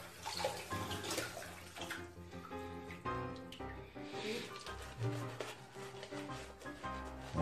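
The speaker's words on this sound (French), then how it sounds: "je crois que je vais mouiller un petit peu plus." Running tap water wets a Semogue shaving brush, a continuous close splashing rush with faint gurgles that holds steady at moderate loudness throughout.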